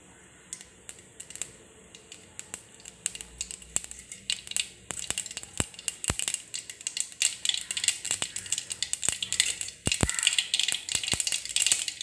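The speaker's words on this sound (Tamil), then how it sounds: "கடுகு நல்லா பொரியட்டும்." Mustard seeds splutter and pop in hot oil in a pan, a dense stream of sharp crackles that grows busier and louder over time, with no talk.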